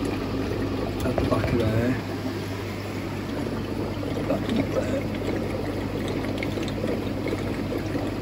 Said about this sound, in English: I'm going to wait till that drains